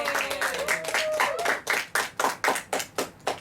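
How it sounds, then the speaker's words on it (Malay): Students in a Malaysian classroom clap for a classmate who answered correctly, starting as brisk scattered claps with a voice over them, then settling into about eight slower, evenly spaced group claps, close and clear. "Berikan satu tepukan untuk Amir"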